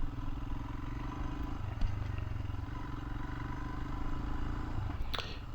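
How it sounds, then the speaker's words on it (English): A Royal Enfield Himalayan motorcycle engine runs at very low RPM, a faint, steady low thrumming pulse heard from a distance with a soft clack near the middle and a brief scrape near the end. "trying to see if how much low I could go on the engine RPM while maintaining control of the bike"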